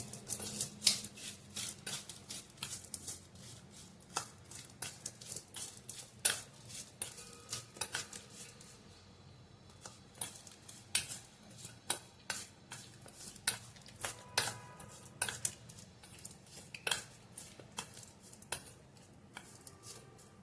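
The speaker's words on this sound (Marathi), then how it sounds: "आता हे चांगलं मिक्स करून घ्यायचं आहे" A spoon scrapes and clinks steadily against a bowl while raw mango pickle is mixed with red chili powder and turmeric, with many sharp close taps at an irregular rhythm over a quiet background.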